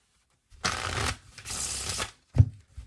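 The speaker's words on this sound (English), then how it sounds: "Let's move on to the in the hands riffle shuffle." Playing cards are riffle shuffled in the hands, two quick fluttering riffles followed by a soft tap as the deck squares up, close and alone.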